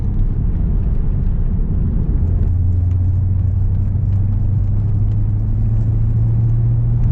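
Interior of a moving MG ZT260 V8 car heading down a road into St Mawes in Cornwall, with a constant loud low engine and road rumble and a steady hum throughout. No talking.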